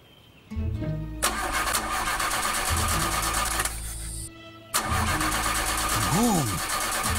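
A van engine with water in it cranks and struggles to start, whirring bursts that catch, cut out and restart, loud and close, with a short sliding whine near the end.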